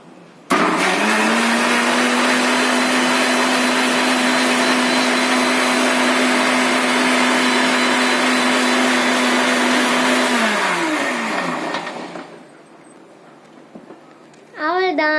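A mixer grinder whirs at high speed while blending lassi ingredients, a loud steady motor drone for about eleven seconds that winds down and stops, then briefly starts again.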